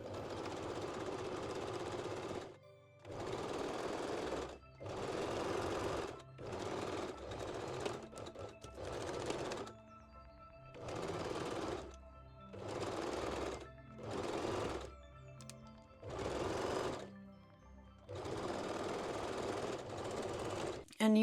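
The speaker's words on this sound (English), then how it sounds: "place the elastic right here and stitch it along the longer edge" A sewing machine stitches elastic along the longer edge of a full-bust bikini top, running in about ten loud bursts of a few seconds each, separated by short pauses.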